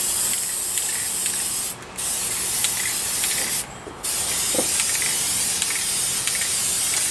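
Spray paint can hissing steadily onto a thrifted metal birdcage, a near, continuous spray with two brief pauses between bursts, no talking.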